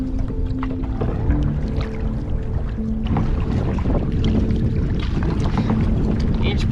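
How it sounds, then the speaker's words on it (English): Strong wind roars against the microphone while a canoe is paddled through choppy water in remote Canadian wilderness, a continuous loud rushing and buffeting with low rumble and no talking. "Boy, the wind."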